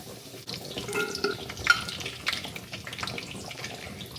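Water is poured into a pan of softened fried chilies while ragi noodles cook, a short splashing, running stream with some sizzle, fairly quiet and free of talk.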